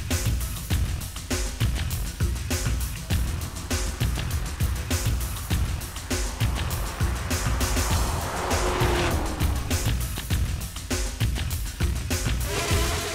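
An Alfa Romeo 4C Spider at a hillclimb event, a steady loud roar of engine and motion noise running throughout, with a faint tonal whine rising around the middle and brief scuffing bursts, with no talking.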